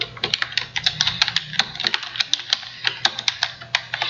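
Quick, crisp keystrokes on a computer keyboard tap out a short entry in PageMaker desktop publishing software, close and clear in an irregular rhythm with no voice over them.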